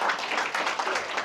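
Wedding guests clap during a speech, a short run of brisk applause from a moderate distance, somewhat faint and soft.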